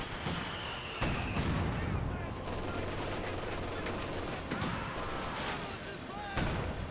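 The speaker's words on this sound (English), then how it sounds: "mortar fire going down" Mortar and gunfire in Company of Heroes 2 during a 2v2 battle: sharp blasts at spaced intervals over a constant dense roar of distant shooting and rumbling combat.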